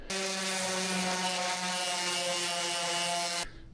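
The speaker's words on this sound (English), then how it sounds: "next I'm just going to hit it with the orbital sander" An orbital sander works a walnut plant stand with live and waterfall edges, giving a loud, steady whirring buzz for about three and a half seconds before cutting off abruptly.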